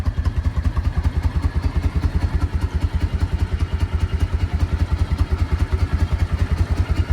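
An abandoned Harley-Davidson Road King motorcycle engine runs steadily after being revived, with a loud, close, rhythmic lumpy idle thumping evenly throughout and no talking.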